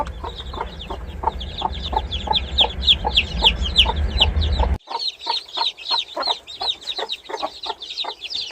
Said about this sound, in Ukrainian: Поки що квочки ведуть себе спокійно, не кусають ні одна одну, ні курчат.